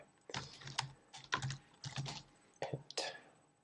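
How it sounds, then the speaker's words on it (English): Computer keyboard keys tapped in uneven clusters, mostly Tab and arrow keys, with clicks close to the microphone and short pauses between bursts. "allows selecting widgets using the tab key and moving them around using the arrow keys"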